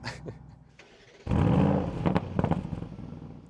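A 2025 Audi RSQ8 Performance engine cranks and fires up with a loud burst, then settles into a rumbling idle with a few sharp revs, close by.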